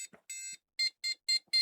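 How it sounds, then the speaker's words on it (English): A PC XT clone motherboard with its programmable interrupt controller removed sounds a series of short electronic beeps: a few uneven tones, then four evenly spaced bleeps, thin and close, with nothing else audible. "if I take the programmable interrupt controller out altogether, then we'll just get that beeping immediately"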